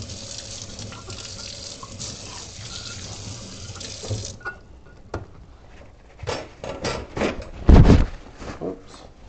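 Running tap water splashing over soapy hands at a kitchen sink while baking oatmeal cookies: a steady gush of flow that breaks into irregular splashes, drips and wet rubbing, with one louder splash near the end.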